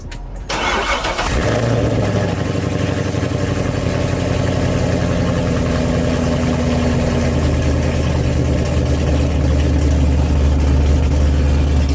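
Car engine fitted with a BTR stage 4 cam cold-starting with a brief crank, then settling straight into a loud, steady, choppy idle that continues close by to the end.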